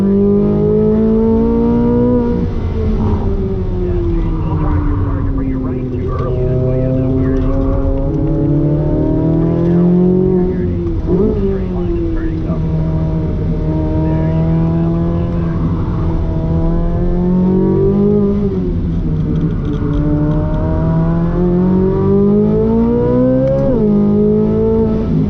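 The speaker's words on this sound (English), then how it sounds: "the feel of that torque and the sound of that electric motor pulling it is definitely really unique" Corvette E-Ray driven hard on a track, its electric motor and drivetrain whirring as it accelerates, with steady rising and falling tones from repeated pulls, loud and continuous with no talking.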